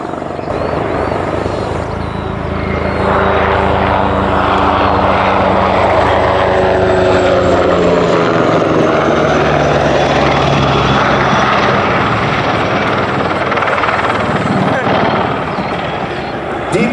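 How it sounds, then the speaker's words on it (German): Medevac helicopter departing with a Tiger attack helicopter as escort at the ILA Berlin air show at Berlin Expo Airport, Schönefeld, loud rotor roar swelling and sustained with shifting pitch, a commentator talking over it. "the medevac helicopter departs, escorted by one of the Tiger helicopters"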